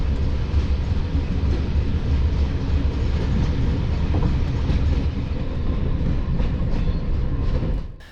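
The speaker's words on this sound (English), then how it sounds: "this overnight trip from Cairo to Luxor on the Watania Deluxe Sleeper" The Watania Deluxe sleeper train from Cairo to Luxor rumbles loudly and continuously from inside the carriage, a dense low roar with faint rattles and clicks, tapering off briefly at the end.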